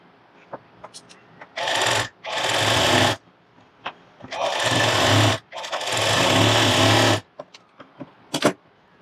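A sewing machine stitches a blouse armhole in three sustained runs of steady whirring, close and fairly loud, separated by short pauses with light handling clicks and no talk.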